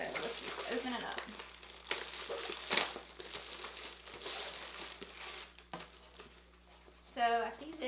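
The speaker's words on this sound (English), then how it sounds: "So let's just open it up." Plastic wrapping of a FabFitFun Spring 2019 subscription box crinkles and rustles as the package is opened, in faint, irregular bursts under quiet talking.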